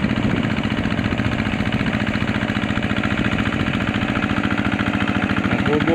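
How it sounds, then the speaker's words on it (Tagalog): Vehicle engine labouring under heavy load while stuck deep in the ground, a steady loud rumbling drone with a rapid pulsing rhythm that holds for the whole stretch, close by and with no talk over it. "Hirap yung makina, sobrang lalim."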